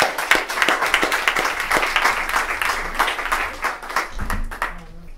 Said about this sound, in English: so if we could just give a round of applause for...